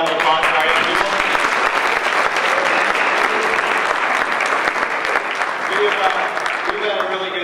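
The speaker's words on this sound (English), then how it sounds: "How about another round of applause for our young people?" Audience in a church youth Sunday service applauding the young people, loud sustained clapping from a sizeable crowd that carries on evenly for several seconds with a faint murmur underneath.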